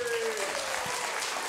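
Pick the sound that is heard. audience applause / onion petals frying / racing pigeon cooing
audience applause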